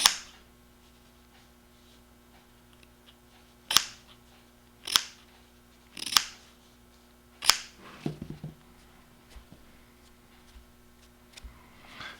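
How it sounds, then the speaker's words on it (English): Tachyon rope is cut at a steep angle to taper it, giving five or six sharp, close snips spaced a second or so apart, followed by softer rustling handling sounds. "You have to cut kind of at a strong angle to get it to taper right"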